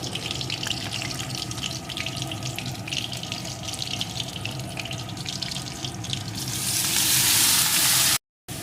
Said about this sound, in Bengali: এইভাবে নাড়িয়ে নাড়িয়ে কপিগুলোকে সুন্দর করে ভেজে নেব